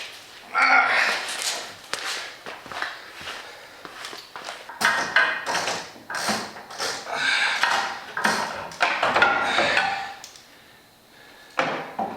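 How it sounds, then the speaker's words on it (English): Wrench loosening a bolt during a MOPAR receiver hitch install on a Jeep Gladiator, heard as irregular metallic clanks, ratcheting clicks and scrapes, close and fairly loud, with brief pauses between bursts and no talking. "Now we gotta do the other one with a wrench."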